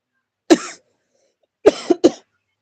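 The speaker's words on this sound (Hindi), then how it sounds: "थोड़ा जुकाम हो गई है, खांसी आ रही है।" A person with a cold coughs, one harsh cough, then after a pause a quick pair of coughs, close and fairly loud against silence.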